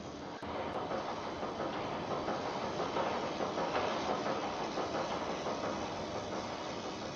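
A steady low rumble and churning drone of an Akizuki-class destroyer moving through water in World of Warships, continuous and moderately quiet throughout, with no voices.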